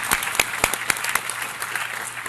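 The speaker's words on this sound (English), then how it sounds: "So warm round of applause" Warm applause from the audience at a high-level health coverage event, a dense steady patter of clapping with a few sharp individual claps standing out near the front.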